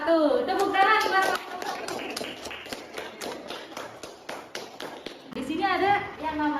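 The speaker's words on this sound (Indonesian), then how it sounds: "Tepuk tangan buat" A classroom of students clapping, a scattered patter of hands that runs under a teacher's speech and fades as the talking continues.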